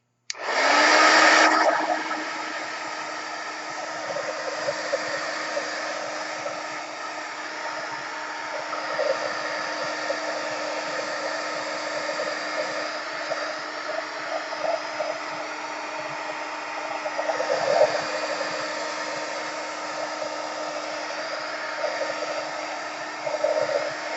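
A hair dryer blows steadily on a Pan Pastel journal page, a loud continuous whooshing hum that starts abruptly and holds nearly unchanged for over twenty seconds, with a slight dip and surge partway through and no talking.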